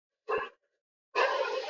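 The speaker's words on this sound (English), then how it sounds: "I'm sorry for the dogs, by the way." Stray dogs barking somewhere outside: one short bark, a pause, then a longer bark or howl, faint and distant with no talk over them.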